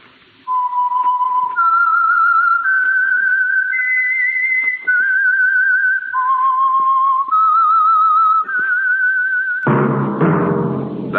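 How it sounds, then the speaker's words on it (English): A whistled theme signal for The Whistler radio show, a lone, clear melodic whistle stepping through several sustained notes, followed by a brief burst of orchestral music at the end. "That whistle is your signal for the Whistler."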